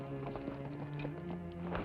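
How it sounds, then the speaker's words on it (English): Horse hooves clip-clop at a steady walking pace inside a deserted barn, a riderless horse moving under a low droning musical tone, with no talking. "Horse without rider way out here in a deserted barn."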